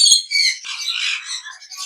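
Forpus parrotlets squawk while eating, a dense run of shrill, harsh calls that overlap with no pause, loud and close.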